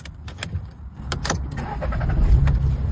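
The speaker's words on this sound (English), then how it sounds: "Let's try starting the car." A car engine cranking and catching after a battery swap in the key fob, with sharp clicks followed by a rising low mechanical rumble that settles into a steady idle, close and fairly loud.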